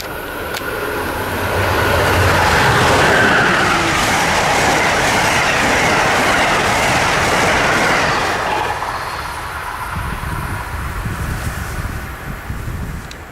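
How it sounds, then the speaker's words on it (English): Amtrak Northeast Regional 84 races north along the Northeast Corridor toward New York, a loud, close roar of wheels and rushing air with clickety-clack and squealing rail noise that swells, holds, then eases off. "Northeast Regional number 84 races its way north on its way to New York from Norfolk,"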